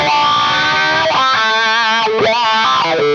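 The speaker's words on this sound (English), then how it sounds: "and he started doing a lot of bends with the wah pedal." Distorted electric guitar played with bends through a wah pedal in a metal tone, sustained gritty notes that bend up and sweep in tone, loud and continuous with no talking.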